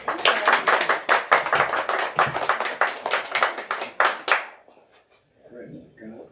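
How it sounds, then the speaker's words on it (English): Audience claps for an author after a book talk, rhythmic close-miked clapping for about four and a half seconds that stops abruptly, followed by quieter murmuring. "Let's give another round of applause to Roger."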